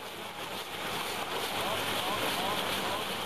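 A motorboat towing a water skier throttles down on open water, giving a steady broad rush of engine, spray and wind noise that swells slightly, with a voice faintly present.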